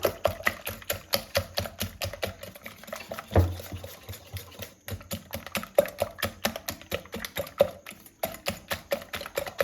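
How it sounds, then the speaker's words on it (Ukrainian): A pinch of salt goes into cake-roll batter being whisked by hand: a fast, steady run of light clicking taps from the whisk against the bowl, close and moderately loud, with no talking. "ще раз це все збиваємо гарненько"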